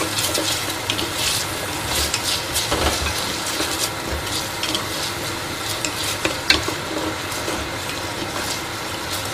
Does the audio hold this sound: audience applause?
no